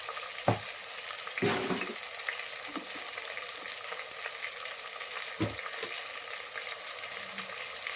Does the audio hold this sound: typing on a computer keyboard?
no